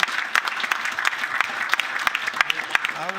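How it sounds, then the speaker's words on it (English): A conference audience at a hydrogen research event claps steadily for panelists, a dense patter of many hands applauding throughout without a break. "I would like to give a last round of applause to the panelists"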